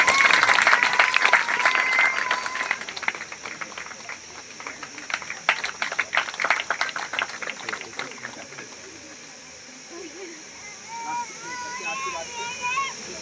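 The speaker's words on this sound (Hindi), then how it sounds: "ताली बजाएगा।" Audience clapping at a tribal Christian gathering, a burst of scattered claps with crowd noise and voices around it, fading partway through as talk and background sounds take over.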